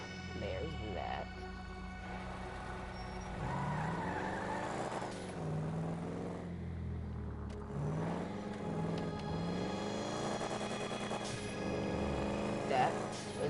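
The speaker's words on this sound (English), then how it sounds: "That is when you hear your car doing that. That is what we call double clutching." Car engine in GTA 5 revving up and dropping in repeated swells as it double clutches through gears, a rumbling motor under a voice talking over it.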